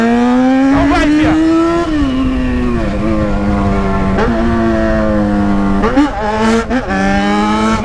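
A Yamaha XJ6 motorcycle engine hums steadily while riding through traffic, its pitch rising and falling with throttle changes and gear shifts, with sharper revving bursts near the end and a rider's voice talking over it.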